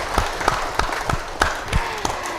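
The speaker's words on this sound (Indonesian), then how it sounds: "saya boleh minta tepuk tangannya dulu dong." Scattered applause from the audience at an Islamic study gathering, a few distinct claps ringing out in uneven rhythm, sparse and moderately close rather than a full ovation.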